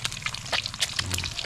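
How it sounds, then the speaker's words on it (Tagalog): Water poured into a cooking pan while fried eggs are being prepared for breakfast, a short close splashing trickle with light sloshing and drips. "Lalagan ng tubig."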